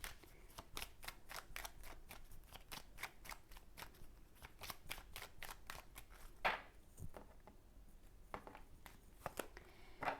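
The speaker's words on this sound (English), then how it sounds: "I'm going to quickly pull all the cards out and then we can start the reading" Tarot cards pulled from a deck one after another, a rapid series of crisp, close snapping card flicks and slides, fairly quiet, with a brief rustle partway through.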